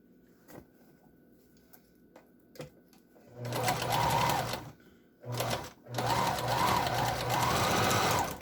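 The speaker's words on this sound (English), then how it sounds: "I'm going to take this and sew this down." A sewing machine stitches down parts of an N95-style face mask, running in three close, loud bursts of steady whirring after a few soft handling clicks, with no talk over it.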